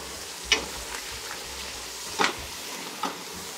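Ragu meat sizzles in a pan over reduced heat, a soft continuous hiss broken by three scraping strokes of a spoon stirring.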